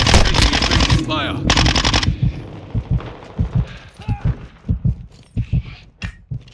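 Bursts of automatic rifle fire in Call of Duty Modern Warfare 2 multiplayer, first as loud rapid volleys, then as scattered single shots and short bursts, some nearer and some distant.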